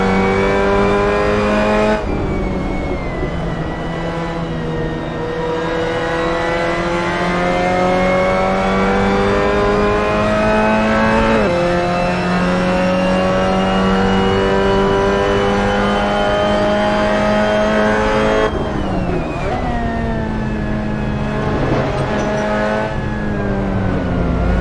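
Mazda MX-5 Cup race cars lap Zandvoort in the racing game Assetto Corsa, one engine droning loud and close through long rising revs, with sharp drops at gear changes and occasional tire squeal.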